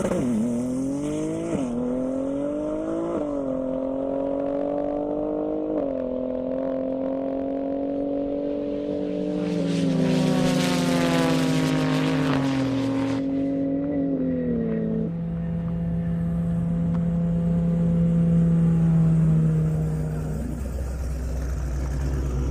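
Porsche Turbo S launching down a half-mile airport drag strip: the engine note climbs in pitch, then drops sharply at each gear change, with a burst of roaring noise midway and a lower drone as the car pulls away.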